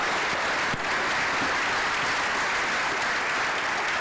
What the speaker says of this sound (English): A round of applause for our esteemed panelists today